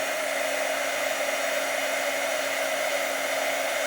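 A heat tool blows steadily while it melts gold embossing powder on a card. The airflow makes a constant, loud, close whooshing hum with no pauses, and no voices are heard.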